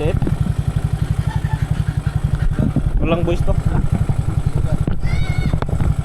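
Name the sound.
Mio Sporty motorcycle engine revving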